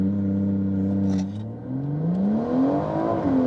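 A BMW M140i launches hard on an acceleration run, the engine note climbing loudly and steadily through the revs, with a brief dip at a gear change before it rises again, no voices over it.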